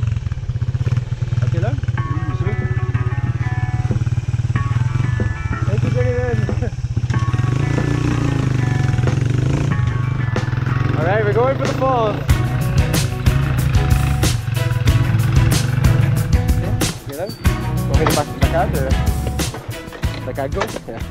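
Motorcycle carrying two riders along a rough road in rural Philippines, its engine droning steadily under loud wind buffeting, with bumps and rattles and people talking over the ride.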